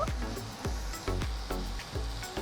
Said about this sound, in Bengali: এবার আবার নাড়াচাড়া করে মিশিয়ে নেব